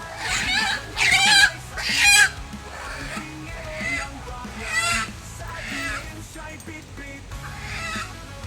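Chickens cluck and squawk in several short, loud bursts over a low background murmur, fairly close.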